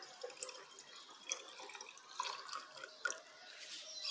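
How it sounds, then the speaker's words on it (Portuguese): About 200 ml of water pours into a cup in a brief, soft trickle with light splashing and scattered drips, faint and close, with no talking. "Deixa eu vir com a água agora,"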